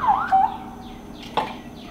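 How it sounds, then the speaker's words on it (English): A short, faint electronic siren wail, rising and falling, with a brief sharp blip near the end; no voices. "Now we have an ambulance"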